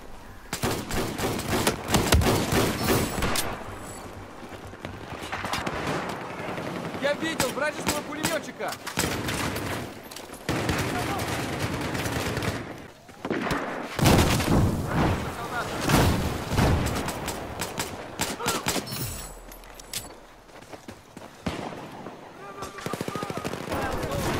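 Pistol gunfire in the video game Battlefield 4, with repeated sharp shots and bursts of gunfire mixed among other battle noise throughout, dense and loud, with a voice talking over parts of it.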